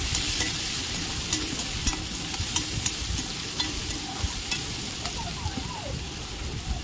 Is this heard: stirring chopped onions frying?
yes